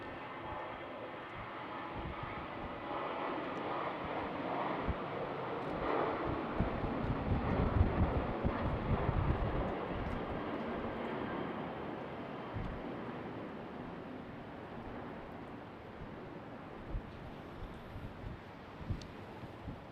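A KLM Boeing 737 taking off at Schiphol in winter conditions, a broad roaring jet rumble that swells to a peak midway and slowly recedes into the distance, with some wind noise.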